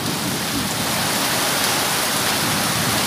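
Heavy rain pours steadily and loudly over a street food vendor's stall, a dense, unbroken hiss filling the whole stretch with no voices.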